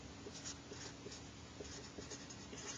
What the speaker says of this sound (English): So let's write that down.